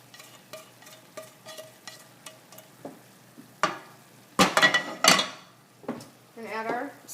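Onions go into a beef and quinoa mixture and are stirred: light rhythmic spoon taps against the pan, then louder scraping clatters and a soft sizzle toward the end, close by.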